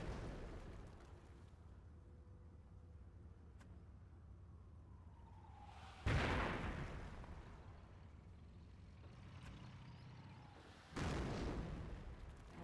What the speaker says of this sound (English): Mortar half track.